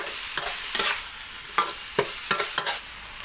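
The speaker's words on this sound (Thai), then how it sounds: "พัดต่อไปนะครับเนื้อมะเขือเทศเละหมดเลยนะครับ" Tomato paste stirred in a pan for a Thai chili dip, nam prik ong, with a soft continuous sizzle broken by repeated sharp scraping strokes of the utensil, close and fairly quiet.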